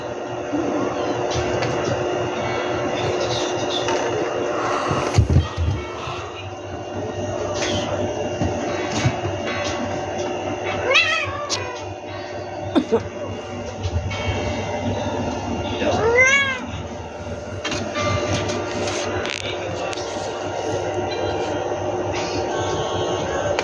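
Several cats meow in short, rising calls while playing indoors, a few distinct cries scattered over a steady background hum, with someone talking at times.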